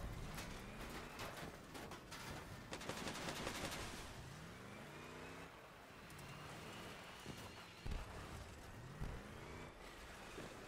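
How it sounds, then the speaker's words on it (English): Automated turrets firing in a combat video game, a fast, continuous rattle of shots running through the whole stretch, with vehicle engine drone and repeated whooshing sweeps mixed underneath at moderate, even loudness. "my turrets are still shooting him"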